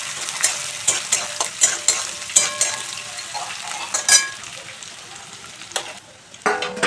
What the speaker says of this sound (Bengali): দিচ্ছি গোটা গরম মশলা এবং দিয়ে দিচ্ছি পেঁয়াজ কুচি। পেঁয়াজ কুচিটা একটু লাল লাল করে ভেজে নেব।